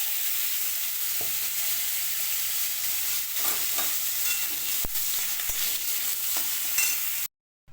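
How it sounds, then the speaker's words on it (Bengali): Mango pieces with dry red chilli and panch phoron frying in hot oil for chutney, a steady close sizzle with stirring clinks and scrapes throughout, then a sudden stop near the end. "এখানে দেখো শুকনো লঙ্কার পাঁচফোড়ন দিয়ে দিলাম, আর সাথে আমগুলো দিয়ে দিলাম।"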